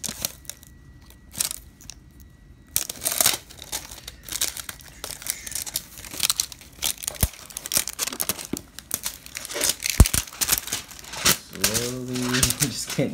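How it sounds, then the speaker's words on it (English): Plastic wrapping is cut with scissors and torn off a Pokemon card box, giving close crinkling, rustling and ripping bursts over several seconds, with a person speaking briefly near the end. "get this wrapping off"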